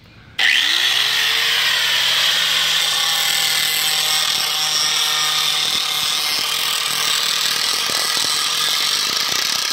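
An angle grinder spins up abruptly and then grinds steadily and loudly on a metal part for removable Jeep doors, with a high whine, a continuous rasp and scattered scraping bursts, and no talk.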